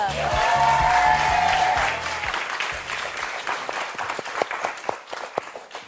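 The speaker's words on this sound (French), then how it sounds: "Allez, tout de suite, on accueille Thierry Beccaro sous vos applaudissements" Studio audience on the French TV game show Motus applauds to welcome the host. Warm, sustained clapping starts under a tonal vocal or musical sound, then thins into scattered, closer claps.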